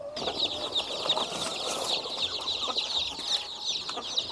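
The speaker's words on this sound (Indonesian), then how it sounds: "setelah itu kita masukkan anak ayamnya" Many KUB chicks peep continuously in high, shrill chirps, a busy overlapping chorus close by.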